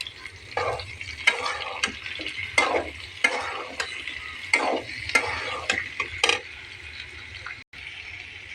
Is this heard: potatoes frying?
yes